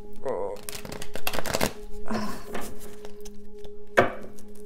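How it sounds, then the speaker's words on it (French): A deck of tarot cards is shuffled by hand in quick, close riffling bursts, with short pauses between them. A voice is faintly present beneath the sound. "je vais brasser un petit peu plus"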